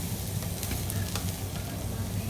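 Cauliflower rice sizzles and fries steadily in a pan, a dense continuous hiss with a few faint scrapes of stirring, close and even throughout.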